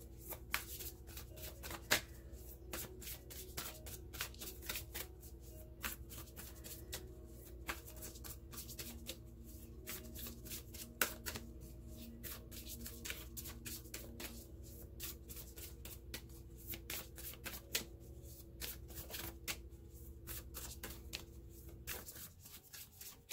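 Oracle cards being shuffled by hand, giving a steady run of soft, rapid riffles and taps at close range over a quiet low hum, continuing without pause and with no talking.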